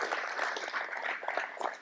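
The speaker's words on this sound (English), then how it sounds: "Guys, clap it up and wait for us." A group clapping together at a hitting clinic, a brief, steady patter of many hands at moderate level with faint voices mixed in.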